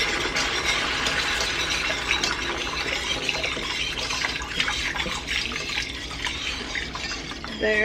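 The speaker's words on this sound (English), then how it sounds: "We start adding some beef broth." Beef broth pouring into a pan while gravy is made for Salisbury steak, a steady splashing liquid stream running continuously for several seconds with kitchen clatter.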